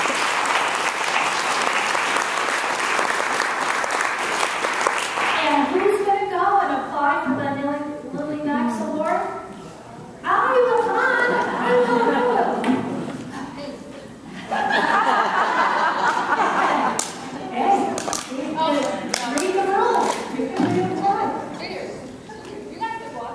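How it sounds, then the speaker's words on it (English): A business meeting audience applauds after an award presentation, a dense burst of clapping at first that gives way to scattered claps, chuckles and murmuring voices. "let's give a round of applause for this great"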